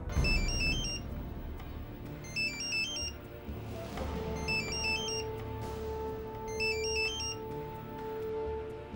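A phone rings for an incoming call in a Marathi TV serial, a repeating electronic ringtone melody in regular bursts, fairly faint over a low background music bed.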